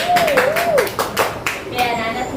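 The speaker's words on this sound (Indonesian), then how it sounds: "Kasih aplaus untuk kelompok 2." Children in an elementary school classroom clap for a group, a few quick, fairly close hand claps heard with a voice speaking over them.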